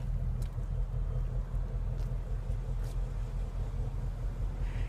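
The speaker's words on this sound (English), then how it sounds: "Dual round chrome tip exhaust that blasts out an amazing V8 sound." Ford Mustang GT V8 exhaust with dual round chrome tips, giving a faint, steady low rumble that drones on without a break.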